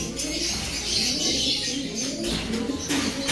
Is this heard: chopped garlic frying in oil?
no